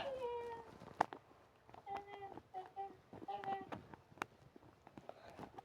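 A cat meows repeatedly in faint, short calls amid soft background noise and scattered clicks and taps.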